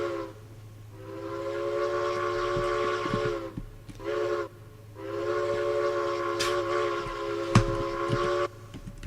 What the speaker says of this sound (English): stopping at the railroad crossing just so that he can make such a noise, such a whistle